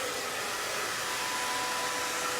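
A hair dryer blows a continuous, loud, even whoosh with a faint steady whine while drying a short bob haircut, with no pauses or talking.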